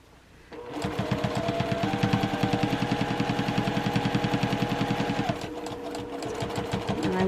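A sewing machine backstitches fabric for a rooster collage wall hanging, running a fast, steady stitch rhythm for several seconds before dropping to a slightly slower pace, close and alone.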